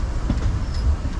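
Disneyland Railroad passenger train rolling along its rails, a loud, steady rumble with rhythmic wheel clatter close by, no voices.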